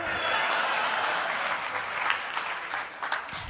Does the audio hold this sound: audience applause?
yes